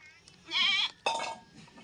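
A village goat gives two loud, wavering bleats close by, one after the other with a short gap, over faint rural background noise.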